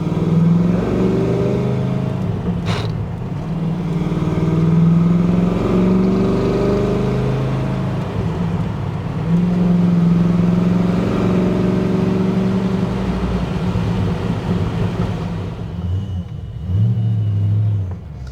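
A 1992 Ford Mustang Fox Body coupe with a worn-out transmission and poor traction runs nearby, its engine giving a steady, loud rumble that swells with a few revs.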